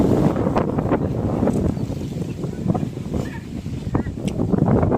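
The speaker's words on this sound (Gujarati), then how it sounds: "એમપીમાં પવન ધૂમ મચાવે છે" Strong wind roars steadily during a heavy rainstorm over farmland in MP, a constant loud rushing buffet against the microphone that lasts throughout without a break.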